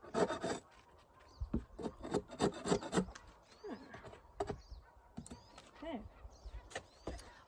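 A hive tool scrapes propolis off the edges of a wooden beehive box in a bee yard, making bursts of rasping, rubbing strokes close by, separated by short quiet pauses.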